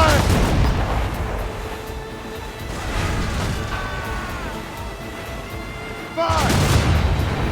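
Ship cannons fire a volley during a naval battle in Assassin's Creed Rogue: heavy rumbling booms roll out in several waves, with a sharp new blast near the end and shouting voices mixed in.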